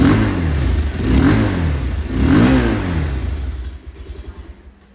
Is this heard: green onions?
no